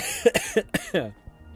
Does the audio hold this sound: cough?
yes